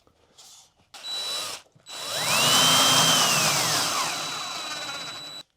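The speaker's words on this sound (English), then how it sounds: "I've started using a drill more often instead of my impact for screws that I want to make sure that I don't overdrive." A cordless drill drives screws into Hydro Ban waterproofing board for a shower, its motor whirring up and then winding down over a few seconds, sounding close and fairly loud with a ratcheting edge and no talk.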